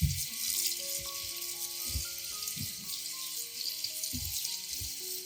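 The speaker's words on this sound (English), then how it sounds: "rinse them 1 or 2 more times with clean water to ensure they are completely clean" Clean water running and splashing while mint leaves are rinsed, a steady faint hiss of flowing water with soft intermittent clatters and light handling sounds, with background music.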